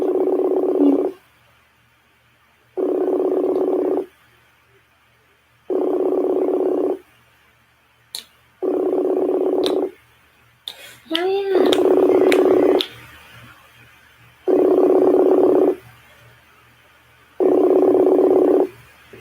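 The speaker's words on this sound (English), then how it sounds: "They not answering the phone." A telephone ringback tone on an unanswered call repeats in steady on-off pulses, loud and clear, with a brief burst of background noise and movement midway.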